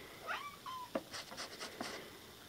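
A cat gives a few thin, high squeaky mews in quick succession, faint and close, against a quiet background.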